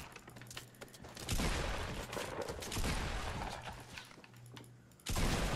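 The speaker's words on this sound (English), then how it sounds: "Putting cover fire down." Rapid, sustained gunfire in Fortnite: Battle Royale gameplay, dense and loud, running for several seconds and stopping, then a sharp burst at the very end.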